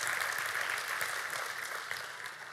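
Audience at a church event in Skopje breaking into sustained applause, many hands clapping steadily at moderate distance and tapering slightly toward the end.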